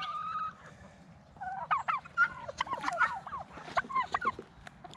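Farm fowl calling in rapid gobbling, clucking bursts, fairly close and clear over faint low background noise.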